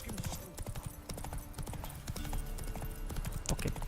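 Hooves of Roach, Geralt's horse in the video game Witcher 3, clip-clopping in a steady rapid gallop rhythm over game ambience, fairly quiet and continuous.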